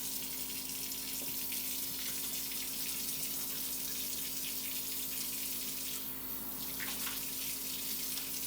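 Tap water running steadily into a kitchen sink during washing, a continuous close rush with a slight change in the flow near the end, no voices.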